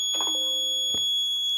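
A sensor alert system built on a Raspberry Pi Pico with GSM and GPS sounds its alarm: a short, loud electronic tone, steady and close, lasting under two seconds.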